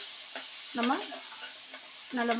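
Onion, garlic and ginger sautéing in a kadai with fish masala for Kerala karimeen pollichathu: a soft background sizzle with a few stirring clicks, while someone talks intermittently over it.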